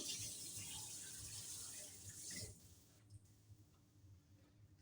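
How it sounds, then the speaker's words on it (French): Tap water runs steadily into a sink as a sea bream is rinsed, a soft hiss that stops midway, leaving faint drips and handling noises. "effectivement, je vais le rincer."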